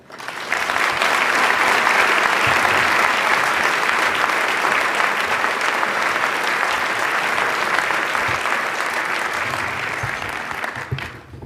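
A large audience at a Canadian Club of Toronto luncheon applauds steadily and loudly to welcome Bank of Canada Governor Mark Carney, a sustained wash of clapping for about ten seconds that fades slightly at the end.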